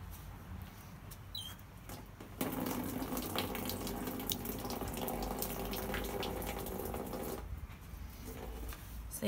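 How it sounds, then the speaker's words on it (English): Water pours from an outdoor garden tap, a steady close splashing rush that starts abruptly partway in, runs on, then cuts back to a quieter trickle near the end. "I'm right by the outdoor tap."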